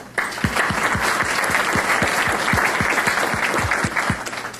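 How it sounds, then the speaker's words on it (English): Sustained round of applause from an audience at a chamber of commerce early-morning breakfast event, dense and steady clapping with rhythmic low thumps, filling the room for several seconds before tapering slightly. "I'd like to give you one more round of applause"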